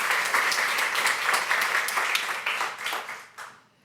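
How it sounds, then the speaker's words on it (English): Listeners at a talk on art thinking and technology give a round of applause, close and steady clapping for about three seconds that tapers off and fades out near the end. "So please give a big round of applause for Scott now."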